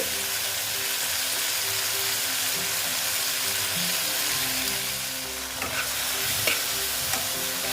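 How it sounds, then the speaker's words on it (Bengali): Onion stalks and tomato frying in a pan, a continuous dense sizzle with occasional stirring clinks toward the end, no voices. "ভালো মতো ভেজে নিচ্ছি"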